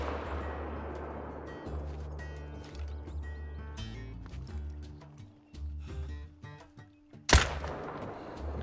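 A rifle is fired while hunting red deer in theHunter: Call of the Wild. A single sharp, loud crack comes late, against quieter outdoor game sounds with some scattered clicks and thuds before it.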